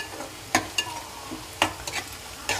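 Onions frying in a pan for a crab curry: a soft background sizzle broken by several sharp, close scrapes and clacks of a spoon stirring against the pan.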